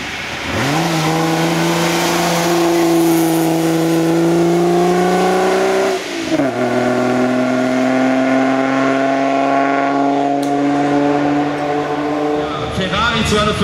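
A vintage race car engine roars close by at an oldtimer hill climb at Rossfeld, its pitch climbing through gears, dropping at a shift, then rising again as it passes.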